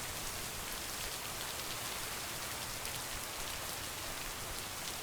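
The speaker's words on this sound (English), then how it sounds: "the rain does feel kind of nice" Rain falls steadily on an awning, a dense, even hiss of drops pattering close by without pause and no voices.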